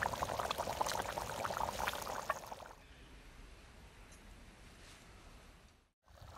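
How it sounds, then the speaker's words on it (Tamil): A paste of ground cumin, fennel and pepper thinned with water is poured into cooked mutton, a soft splashing pour that lasts a few seconds and then gives way to a quiet simmering background. "சீரகம், சோம்பு, மிளகு சேர்ந்து அரைச்ச பொடியை இது மாதிரி தண்ணி சேர்த்து இந்த பதத்தில் கரைச்சி அதில் ஃபஸ்ட்டு ஊற்றணும்"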